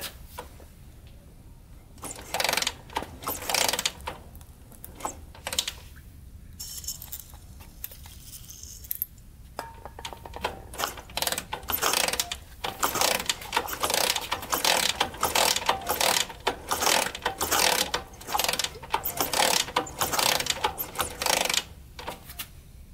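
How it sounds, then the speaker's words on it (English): An old Honda ATC 200x three-wheeler, left sitting for years, is cranked over by hand in repeated ratcheting, clattering strokes, close and steady, growing denser and more rhythmic as it continues. "so it's definitely turning over."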